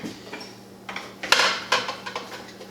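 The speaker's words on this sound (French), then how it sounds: "Je pense qu'on va brasser un peu aussi." A spoon knocking and scraping against a pot of cooking potatoes and asparagus, several clinking metallic strikes with a soft bubbling hum beneath, close and moderately loud.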